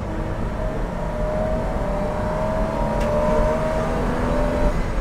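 A Porsche 986 Boxster with a 3.2 litre flat six drives at speed, making a steady engine whine and a strong road roar that build slightly toward the end.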